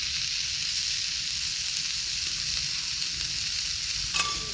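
Vegetables sizzle steadily while being sautéed over a wood fire in a rustic tribal-style cooking setup, a constant close frying hiss with one brief clink of utensil near the end.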